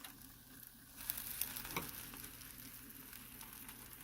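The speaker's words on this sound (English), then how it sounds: "Now I'll leave them to cook for a few minutes." Quesadillas fry in an oiled pan, a faint, steady sizzle that picks up slightly after the first second, with a few soft clicks and no talking.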